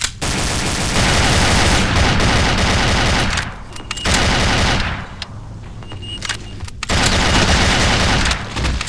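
Pistol fire in the Doom 2 mod Aliens: Eradication, a loud, dense run of sharp gunshots with brief pauses and strong booming reports amid game noise.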